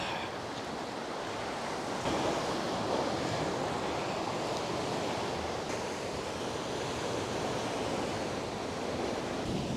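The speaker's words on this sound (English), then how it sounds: "we're also in the windy side of the island" Steady, broadband wind roars on the exposed windy side of a Maltese island by a causeway, mixed with a continuous surf-like rush, constant and moderately faint with no voices.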